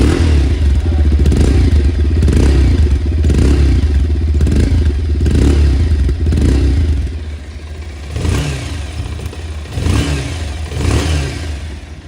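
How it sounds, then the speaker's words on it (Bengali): A 2026 Bajaj Pulsar 180 motorcycle, its exhaust thrumming loud and close at a steady idle, then the engine is blipped in a few short revs that rise and fall. "এবারের এক্সস্ট সাউন্ড কেমন তা একবার আপনারা শুনে নিন।"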